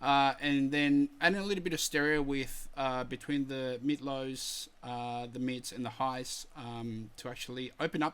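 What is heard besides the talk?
None of the usual background noises is heard.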